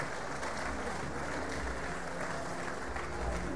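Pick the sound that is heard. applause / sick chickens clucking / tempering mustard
applause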